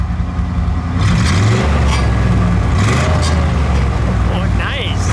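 A 1957 Dodge Coronet Custom Royal Lancer D500 convertible engine swells from idle into a rev, rising in pitch and loudness before easing back down, close by, with voices partly over it.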